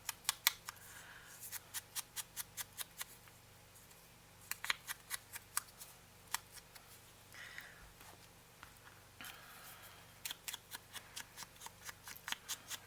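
Scissors snip paper for a shabby chic French envelope journal in quick rhythmic bursts of close, crisp cuts, pausing briefly between runs, with no talk.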